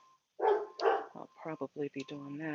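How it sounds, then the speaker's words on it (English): A neighbor's dog barks from nearby in a garden, with two loud barks followed by a quicker series of yips while a person talks over them. "That's my neighbor's dog."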